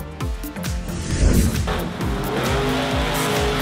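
The Captain's Curse monster truck, built by Monster Jam and Fell Motorsports, drives hard with a loud revving engine, rapid gear-shift pulses and tire squeal, close and with no talking.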